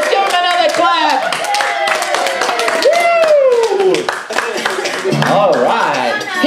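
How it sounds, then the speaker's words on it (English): Audience at a birthday party clapping for the performers, a dense burst of handclaps mixed with loud cheering and talk over the top for several seconds. "Guys, give them another clap."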